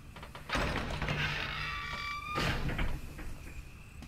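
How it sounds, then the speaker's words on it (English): A gate opens in the Resident Evil Remake video game, with metallic scraping and drawn-out creaking tones that rise and settle over a few seconds, followed by a second clunk of movement, all heard alone at moderate volume. "Opens the gate."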